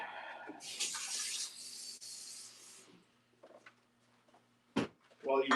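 Tap water runs into a small bowl for wet focaccia dough in a short, bright splash lasting about two seconds, near and fairly quiet, with soft kitchen clatter and bits of speech around it.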